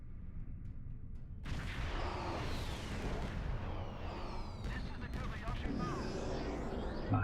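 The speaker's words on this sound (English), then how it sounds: "People are going a bit crazy with fireworks today." Fireworks bursting in the game Star Trek Online, a steady barrage of pops and booms over a dense, noisy mix that stays loud throughout after a quieter opening.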